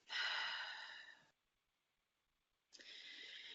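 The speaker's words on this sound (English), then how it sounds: "and exhale from your mouth" Guided breathing exhale out through the mouth, a long, soft breathy sigh lasting over a second, then a pause and a second breathy release, close and quiet with no talking.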